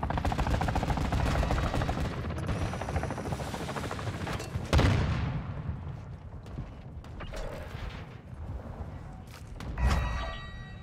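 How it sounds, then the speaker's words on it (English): An attack helicopter's chopper gunner rains rapid automatic fire in Call of Duty Modern Warfare 2 multiplayer, a loud continuous mechanical rattle under rotor drone, with heavy booms punching through midway and again near the end. "Hostile chopper gunner incoming."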